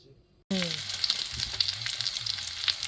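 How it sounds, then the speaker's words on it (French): Breaded cordon bleu cutlets frying in hot oil in a small pan, a steady close sizzle with crackling pops, starting abruptly after a brief quiet moment. "vous entendez, ils sont en train de dorer, ça va être tout croustillant"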